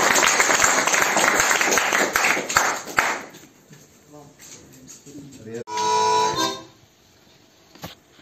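At an open mic performance, an audience claps loudly for about three seconds before the applause fades into quieter sounds and a brief tonal noise.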